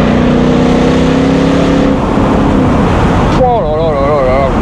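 A Ford Mustang V8 engine drones loudly from inside the car, then revs up with a rising, wavering growl as it reaccelerates, close and dominant throughout.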